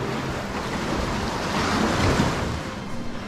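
Ocean waves surge and wash up an island shore in a steady roaring wash, with wind buffeting the microphone and a slightly louder swell midway.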